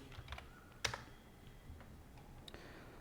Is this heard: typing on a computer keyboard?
yes